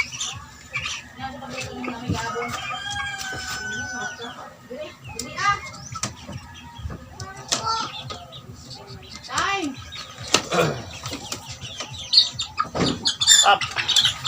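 Young chicks chirp and peep in rapid, high, overlapping calls close by, with someone talking intermittently over them.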